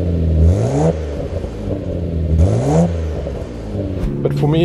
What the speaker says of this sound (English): I like the exhaust sound